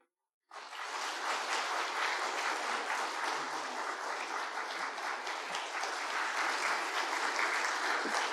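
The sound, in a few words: congregation applause at missionary commissioning service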